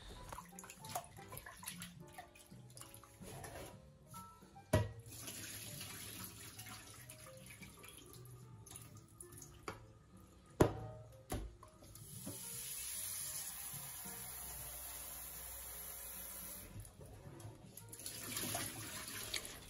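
Tap water runs steadily into a sink while beef is rinsed by hand, with occasional clunks and knocks of the meat and bowl against the basin.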